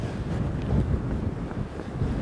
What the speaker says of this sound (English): it's very windy, but hopefully this wind, I think it's okay in the recording